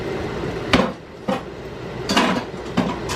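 A pot of candied yams in butter mixture on a stovetop gets covered with its lid, several sharp metallic clinks and clatters ringing out in short bursts with quiet gaps between.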